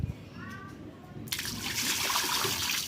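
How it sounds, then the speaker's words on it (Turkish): Water from a pool being drained and poured onto outdoor stairs, a sudden close rushing splash that continues steadily after a quieter start. "merdivenlere su döküyorum"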